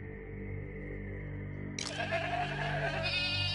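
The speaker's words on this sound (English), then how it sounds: "Let's get the goats in here." Goats bleating in the video game PAYDAY 2, a drawn-out wavering cry that swells partway through over a steady low game hum and background drone.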